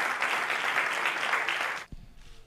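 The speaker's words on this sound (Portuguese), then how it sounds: "Un fuerte aplauso para ellos." Loud, dense applause from the audience at a football club press presentation in Spain, steady for about two seconds before cutting off abruptly, leaving a thump and quiet room noise.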